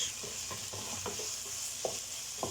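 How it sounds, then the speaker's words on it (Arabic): Button mushrooms sautéing in a pan for a chicken-and-cream dish, a continuous close sizzle with occasional soft stirring scrapes and light pops, no voices. "صافي غنشوحها هكا مزيان، نخليها بما شويه تلدد ليا هاد الشامبينيون"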